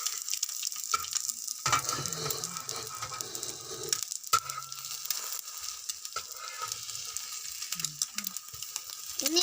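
Small native chicken eggs fry sunny side up in a pan, giving a steady crackling sizzle with scattered pops and light utensil scrapes, close and fairly quiet, with no speech.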